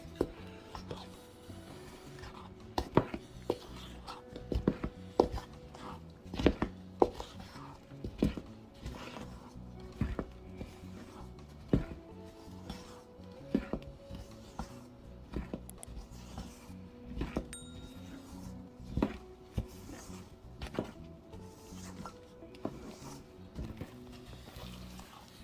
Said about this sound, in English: Now we're gonna cut and fold.